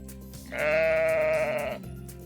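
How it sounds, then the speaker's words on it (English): A single sheep gives one sustained, wavering bleat lasting just over a second, loud and close, with a low background hum before and after. "Sheep."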